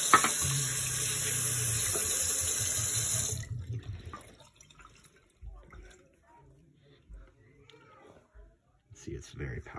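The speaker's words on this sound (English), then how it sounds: "Okay, so I'll wet my hands." Tap water runs steadily from a faucet into a sink while hands are wetted, a close rushing stream for several seconds that stops, followed by quiet handling noises.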